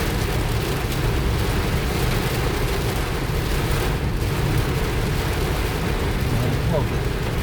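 Heavy rain drums on a moving car in a steady, dense wash of noise with a low rumble beneath, continuous and close throughout, with no clear talk.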